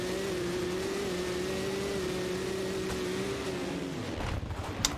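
Dirt bike engines drone and rev together at the supercross starting gate in MX vs ATV Legends, a loud, steady buzzing hum that drops away near the end as the bikes launch.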